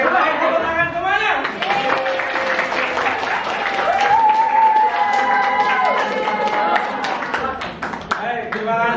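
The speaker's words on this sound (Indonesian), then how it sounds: "Oke, baik, tepuk tangan semuanya." Students in a classroom applauding together, a sustained burst of clapping mixed with chatter and excited voices, fairly loud and close.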